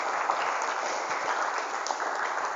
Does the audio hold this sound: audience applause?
yes